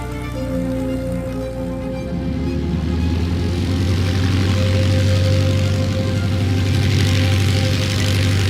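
A Stearman biplane drones overhead, its propeller engine a loud, steady, deep hum with a strong harmonic buzz that swells as it nears and passes close by.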